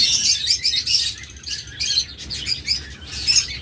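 Lutino Fischer's lovebirds chirp in a pair, a dense run of high, bright twitters and squeaks that repeats steadily from start to finish, close by and fairly loud, with no voices.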